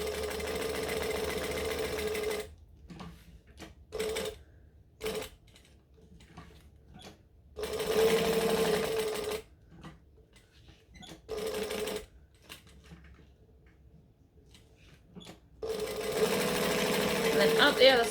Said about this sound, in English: I'm just going to place that and then stitch it down.